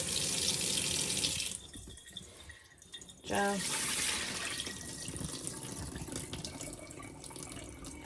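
Tap water running into a sink to rinse starch from sliced potatoes for air fryer crisps, a steady broadband rush that dips briefly before surging back loud and continuous, with a brief spoken word partway through.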